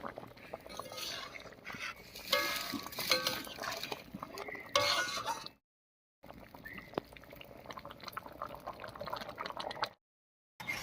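Fried eggs being mixed into masoor dal in a kadai, with wet stirring, scraping and light clinks of a spoon against the pan, fairly close, broken by two short silent gaps.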